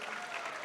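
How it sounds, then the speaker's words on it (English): Crowd applause at a Navajo Nation presidential forum in Shiprock, New Mexico, greeting a veterans' color guard; a short, steady wash of many hands clapping together, fairly distant. "round of applause for your Shiprock Chapter Veterans Organization Color Guard"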